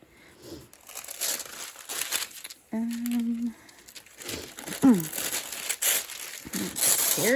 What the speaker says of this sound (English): for a tissue paper it's thick and crinkly, but it's meant to be like a wrapping paper